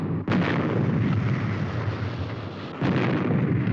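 A weapon fired from a craft, two heavy booming blasts, one near the start and another near the end, with a continuous roaring rumble between them.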